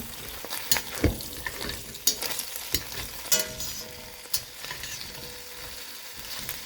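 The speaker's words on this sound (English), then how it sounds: "So I'm going to give them a bit of a stir." Costco wontons frying in a pan, a continuous quiet sizzle broken by a series of irregular scraping and clacking stirs from a utensil against the pan.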